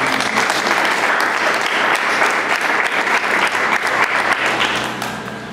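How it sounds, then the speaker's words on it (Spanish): A church congregation at a charismatic service in San Isidro bursts into loud, sustained applause, dense clapping that fills the space and fades slightly at the end. "Aplausos a la palabra de Dios"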